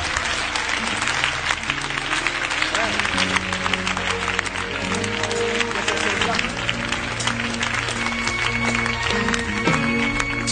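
A church congregation applauds God with dense, sustained clapping that stays steady throughout, while faint voices mix in.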